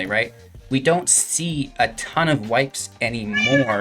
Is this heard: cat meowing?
yes